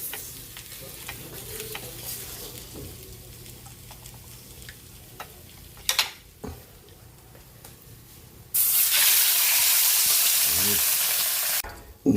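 Fish frying in a pan while Filipino home dishes of pork pickles and ginisang upo are cooked; a low steady sizzle with faint clinks, then a loud, dense hissing crackle bursts up for a few seconds before cutting off.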